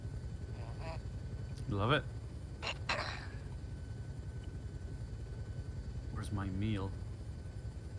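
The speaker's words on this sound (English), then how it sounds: "It's a pretty, very quiet helicopter." A helicopter in flight in ArmA 3 S.O.G. Prairie Fire, its rotor giving a steady low rhythmic thrum throughout while people talk briefly over it.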